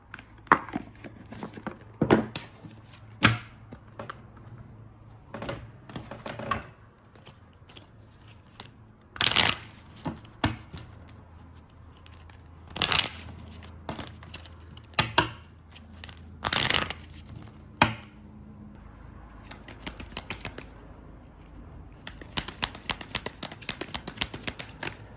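Oracle cards being shuffled and drawn for a love reading, with repeated crisp riffling bursts and soft slaps of card stock, some sharp and loud, scattered through a quiet room with no talking.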